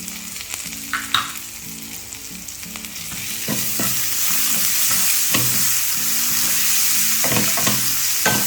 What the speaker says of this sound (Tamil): ஸோ எப்படியும் வெங்காயம், பூண்டு இதெல்லாமே குக் ஆகணும்.